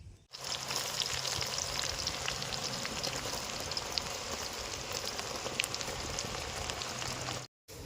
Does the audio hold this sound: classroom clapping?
no